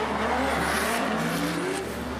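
A 1,000 HP Toyota Corolla iM Formula D drift car slides sideways with its tires squealing. A sustained engine roar and tire screech fill the whole stretch at steady loudness, with no talking.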